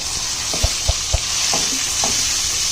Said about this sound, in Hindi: तो 10 सेकंड तक हमने इन वेजिटेबल को स्टर किया, अच्छे से मिक्स किया।